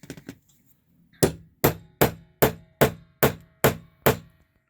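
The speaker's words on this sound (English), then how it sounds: "Put it back in the thing and in the thing and just hammer it again." Eight evenly spaced, sharp metallic hammer strikes on a grommet setter ring out close by, preceded by a few faint taps.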